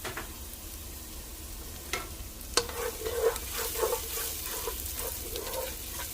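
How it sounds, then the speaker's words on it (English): Garlic sweats in a hot pan with a low, steady sizzle, broken by a couple of light knocks and a brief patch of crackling, fairly faint throughout. "Now we're going to go ahead and add the garlic down in there. Let that sweat for just a few."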